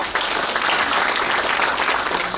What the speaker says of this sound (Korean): 박수를 보내주시기 바랍니다.